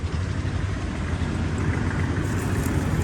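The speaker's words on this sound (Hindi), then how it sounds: "आपको ट्रैक्टर की आवाज़ सुनाते हैं।" A Kubota MU5502 tractor's 16-valve engine runs at a steady idle, a close, continuous low rumble with no talking over it.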